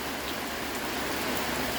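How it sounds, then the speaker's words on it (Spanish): Rain falling outdoors in El Salvador, a dense, steady hiss of drops on surfaces, continuous and even throughout with no voices. "Dan ganas, miren, con esta frescura de la lluvia."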